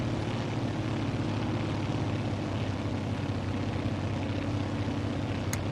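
A Grumman Goose's propeller engines drone steadily in Microsoft Flight Simulator, a loud, continuous low thrum held evenly throughout with no voices.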